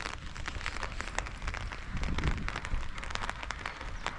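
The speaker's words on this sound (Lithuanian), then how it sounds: "Su skėčiu pasivaikščiot. Lietui lyjant." Rain patters steadily on an umbrella during an outdoor walk, a faint, continuous tapping of many small drops close overhead, with no voices.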